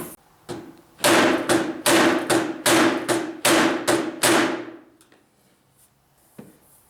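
Hammering on a Ram truck during third brake light work: seven loud, evenly spaced ringing blows close up, then quiet with one faint knock near the end.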